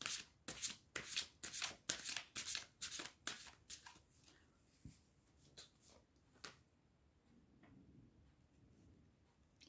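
Tarot cards shuffled in quick, rhythmic riffles, loud and close at first, then thinning to scattered soft taps and a few isolated flicks before falling quiet.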